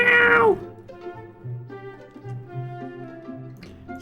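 A short, bright cat meow sound effect from the Chrono Gear hololive fangame opens with a falling pitch, followed by quieter low background murmuring.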